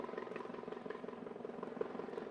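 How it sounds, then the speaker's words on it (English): A helicopter comes in to land at a nearby hospital, its steady rotor chop and engine drone faint and distant throughout, with no talking. "I live right by a hospital, and there's a helicopter landing to go to the hospital."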